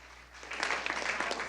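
A church congregation breaks into applause, the clapping starting softly and swelling within a second into a brief, fairly close burst of claps.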